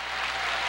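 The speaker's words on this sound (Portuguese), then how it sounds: "Um aplauso ao nosso Deus" Congregation clapping during a church worship service, a brief, steady burst of many hands heard at moderate volume with no voices over it.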